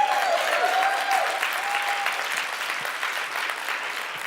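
Audience applause in a lecture hall, dense steady clapping from a crowd that holds fairly loud throughout, with a faint whistle-like tone near the start and no talk over it.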